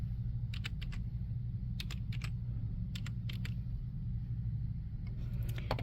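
A search is typed on a slow store computer keyboard, with brisk clusters of close key clicks separated by brief pauses over a steady low background hum.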